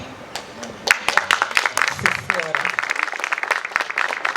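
An audience at a celebration of African Women's Day breaks into applause, a burst of clapping that rises sharply and carries on with voices audible over it.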